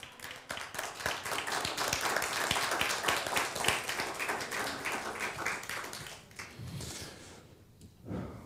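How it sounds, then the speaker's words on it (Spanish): Congregation applauding during a church sermon, a steady wash of clapping that builds and holds for several seconds, then thins out into scattered claps and breathing. "Denle un aplauso al Señor"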